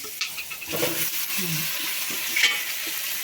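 Potatoes hit a hot pan with cloves and cinnamon and are stir-fried, a close sizzle broken by scraping and clattering of the spatula, with a brief murmur of voice in the background.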